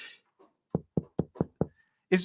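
Five firm knocks on a door in quick, even succession, close and clear in an otherwise quiet room, with brief voice fragments just before and after.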